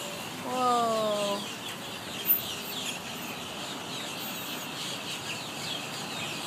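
Starlings in a murmuration together with crows over Bird Road and US 1, a busy chatter of calls throughout, with a few brief harsher calls early on, held steady at moderate distance.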